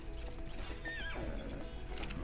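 A horse in the video game ARK lets out a single sharp whinny that rises and then falls, over soft hoof clip-clops and low game background noise.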